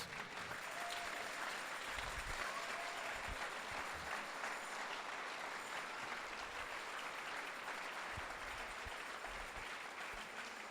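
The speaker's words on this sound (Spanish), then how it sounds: "Alguien déle una ofrenda de palmas a Jesús" A church congregation gives a long, steady round of applause for Jesus, a continuous wash of many hands heard at some distance and fairly quiet.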